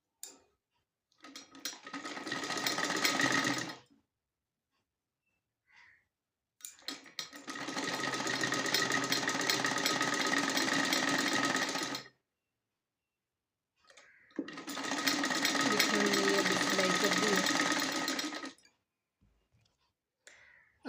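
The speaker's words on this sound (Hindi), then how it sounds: "अब ये बीच वाला जो हिस्सा है उसको मशीन को बगैर उठाए" A sewing machine stitches an old sweater in three sustained runs of rapid, whirring needle clatter, each a few seconds long, separated by near-silent pauses with faint clicks, heard close up.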